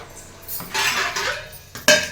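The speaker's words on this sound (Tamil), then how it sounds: "இப்போ வந்து பாத்திரம் வந்து நான் கழுவணும் இப்போ பாருங்கள் இந்த பாத்திரம் தான் நம்ம வந்து கழுவிடலாம்" Pots and pans being washed by hand in a home kitchen, with clattering scrapes and clinks rising and falling over about two seconds and a sharp louder knock near the end, close by with no talking.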